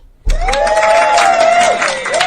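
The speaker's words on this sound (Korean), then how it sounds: "나는 박수와 함성 소리를 터치해볼게." A short applause-and-cheering sound effect from the OctoStudio coding app starts abruptly after a brief silence, then keeps up a loud, full burst of clapping with a bright whooping cheer over it.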